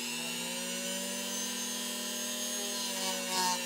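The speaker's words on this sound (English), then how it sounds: "Okay, I'm going to finish polishing this up." A Dremel rotary tool polishes a workpiece, giving a steady high-pitched whine with a constant motor tone throughout and a slight swell near the end, close and with no talking.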